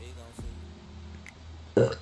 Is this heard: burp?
yes